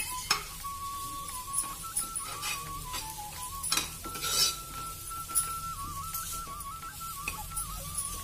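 Ground masala with turmeric and curry leaves frying in a pan while a spoon stirs it, with steady scraping and clinking of metal against the pan over a soft sizzle and a faint high tone in the background.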